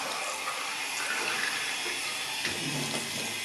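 Water is poured steadily into an eBay turbo wastegate to check it for leaks, making a continuous close splashing and trickling hiss with no voices.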